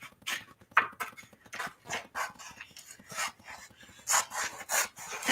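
Paper being trimmed by hand before die cutting, giving repeated close rasping, scraping strokes in an uneven rhythm, with no talking.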